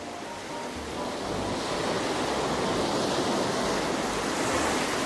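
Water sloshes and splashes in toy water play, making a continuous close, even wash of churning noise that swells slightly after the first second and holds steady, with no voices.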